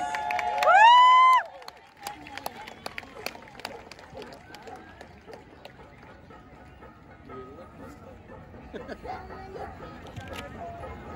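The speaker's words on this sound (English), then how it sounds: "let's all welcome a big round of applause for the Igorot dance" A crowd at a Filipino heritage month event in Halifax, Nova Scotia, greets an Igorot dance performance with a loud opening whoop, then scattered claps and cheers over steady crowd noise and voices.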